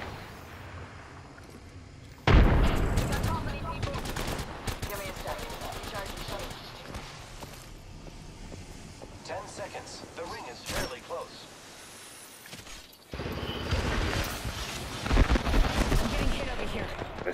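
Frag grenade blast and gunfire in the video game Apex Legends: a sudden loud explosion followed by rapid bursts of shots, a quieter lull, then another heavy burst of explosive fire.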